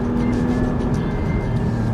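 A Porsche 718 Spyder engine drones at steady revs, loud and close from inside the cabin, a continuous low rumble with no distinct throttle blip.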